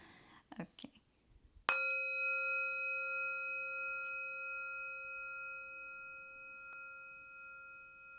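A bowl struck once as a stand-in for a bell rings out with a clear, sustained metallic tone that slowly fades, after a short stretch of soft murmuring at the start.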